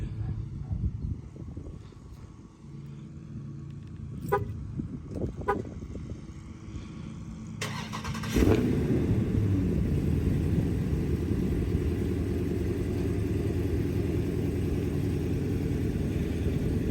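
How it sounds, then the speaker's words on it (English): A 2022 Dodge Challenger R/T Scat Pack engine cranks and fires up after several seconds of quiet handling noises, then settles into a steady, loud, rumbling idle. "we're gonna start it up, so that way the oil can cycle through the motor"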